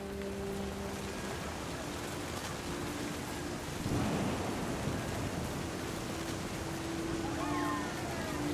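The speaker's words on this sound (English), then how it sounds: "The thunder sounded much too close and full of angry power" In the video game What Remains of Edith Finch, steady rain hisses throughout while a deep roll of thunder swells midway, with a person speaking over the storm.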